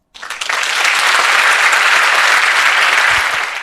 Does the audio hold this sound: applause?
yes